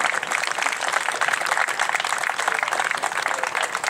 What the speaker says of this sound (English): how about a round of applause, Dave Mosher for Rafale